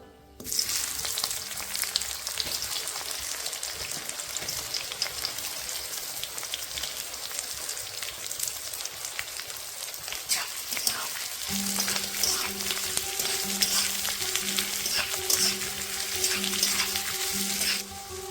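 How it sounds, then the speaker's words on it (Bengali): About 500 grams of chopped onions sizzle in a pan for Bengali mutton kosha, a loud, steady crackling hiss close by that continues unbroken, with faint tonal sounds joining in the second half. "পাঁচশো গ্রামের মতো কুচানো পেঁয়াজ দিয়ে দেবো"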